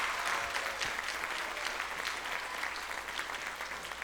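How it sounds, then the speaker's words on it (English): Applause from a school concert audience for a sixth-grade middle school band, a continuous, somewhat distant wash of clapping at low volume that fades slightly toward the end. "Give these sixth graders one more round of applause for working so hard this year."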